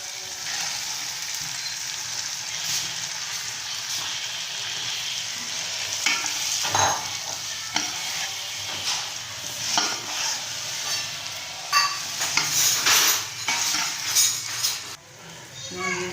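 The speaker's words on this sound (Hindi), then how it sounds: "अब हम इसमें डालते हैं दाल।" Lentils tipped into a hot pan for a sour dal, sizzling steadily while a utensil stirs and clinks against the metal, with occasional louder scrapes and a voice speaking quietly.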